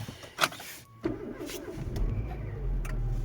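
A Renault Megane 2 engine cranks and catches in freezing frost, with a sharp starter whir followed by a steady low idle that settles and grows slightly louder, close by with no talk.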